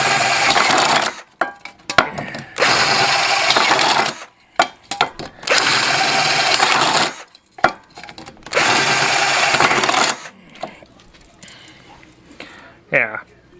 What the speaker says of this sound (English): using the big drill bit,